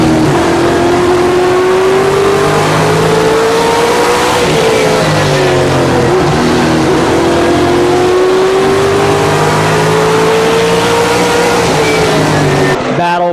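Race cars circle Columbus Motor Speedway in a main event around the halfway mark, engines droning loud and continuous with pitch rising and falling as the field passes, a dense layered roar of several cars at once.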